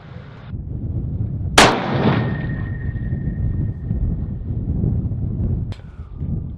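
A single sharp rifle shot fired while sighting in a new rifle outdoors, loud and close with a ringing tail, followed by a faint metallic clang, over steady wind noise.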